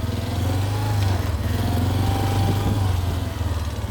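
A Yamaha Big Bear 400 ATV engine runs steadily after sitting outside for two years in the cold, a loud, continuous low putter with a pulsing rhythm and no pauses.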